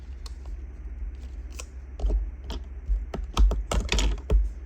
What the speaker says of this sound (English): you just get your script paper and you just tear off a piece